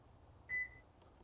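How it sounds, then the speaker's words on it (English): A Subaru key fob gives one short, thin electronic beep as a PIN code button is pressed, quiet and close against a faint background hum. "You'll notice each time I press this, that's the 1, it beeps."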